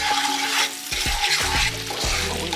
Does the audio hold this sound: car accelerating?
no